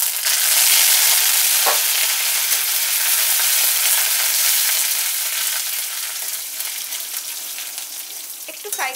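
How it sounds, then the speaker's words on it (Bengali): Spices crackle loudly in hot oil: panch phoron, mustard seeds, dried red chillies and curry leaves frying at the start of a tomato pickle. The dense, close sizzle runs steadily throughout and eases slightly toward the end, with no one talking. "একটু ফ্রাই করে নেব মশলাটা"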